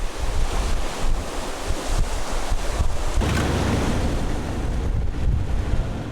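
Ocean surf washes continuously against a rocky island shore, with steady loud rushing water and heavy wind buffeting the microphone throughout.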